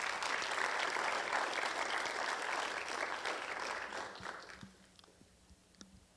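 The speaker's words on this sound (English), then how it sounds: "Let's give them a round of applause." Dense crowd applause, steady and fairly distant, gradually thinning out into a few scattered claps before fading.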